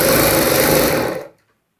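Sewing machine stitching a palazzo pant, a steady, close, high-pitched mechanical whir running alone for just over a second before stopping abruptly.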